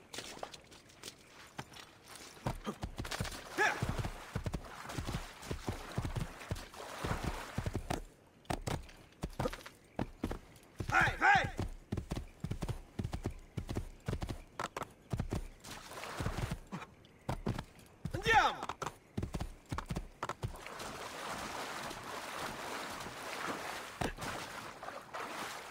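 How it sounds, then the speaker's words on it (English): Horse hooves pound in the Assassin's Creed 2 video game, a fast, fairly quiet run of irregular thuds that lasts throughout with short breaks, with no talking. "Let's get on the horse and get out of here."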